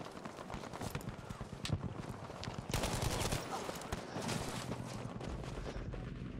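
Rapid bursts of video game gunfire, Battlefield V's Narvik battle, crackle over a dense, busy background, with shots clustered in quick runs and a steady loud din throughout.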